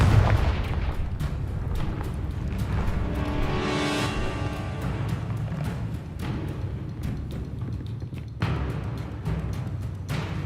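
Confringo blasting-curse explosion in Hogwarts Legacy: a dense clatter of game combat with booms and thuds, one rising whoosh building into a blast, and scattered sharp impacts throughout.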